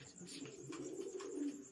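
Pigeons coo softly and faintly in a short run of low, rounded calls, with a light airy background and no voices.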